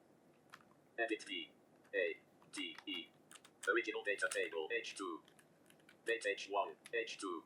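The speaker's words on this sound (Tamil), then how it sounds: "இப்போ H1ல நான் டேட் அப்படின்னு சொல்லி டைப் பண்ணிக்கிறேன்." A computer keyboard typing a date into an MS Excel cell, with quick bursts of close clicking keystrokes alongside a synthetic screen-reader voice speaking.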